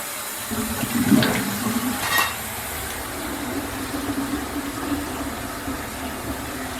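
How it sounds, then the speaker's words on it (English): Hot water drains from a half-full kitchen sink, a steady low gurgling rush with a brief splashy burst near the start, continuing quietly and evenly to the end. "fill up the sink with the hot water, and once it's half full, just let it drain"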